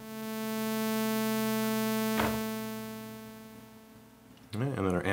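A synthesizer note with a slow attack swells up, holds, and then fades away over a long release once the key is let go, steady and clear before a voice starts speaking at the end.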